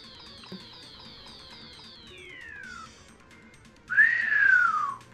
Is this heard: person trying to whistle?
yes